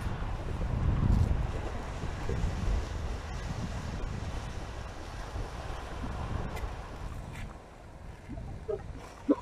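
Strong wind gusts up to 49 mph buffet a shoreline during rain while cod fishing, heavy rumbling blasts swelling and easing against a constant roar of waves and surf, with no talking.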